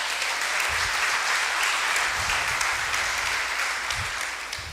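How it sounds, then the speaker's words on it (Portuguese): A large church congregation claps continuously, a dense, steady wash of applause that holds its level throughout. "Você pode aplaudir o nome de Jesus?"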